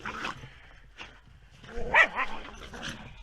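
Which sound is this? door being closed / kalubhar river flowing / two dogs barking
two dogs barking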